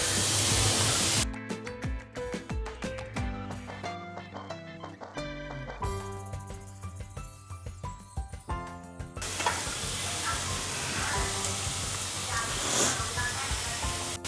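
Grated carrot, potato, onion and egg sizzle steadily in a hot pan, with bursts of stirring and scraping that give way to a loud, continuous frying hiss.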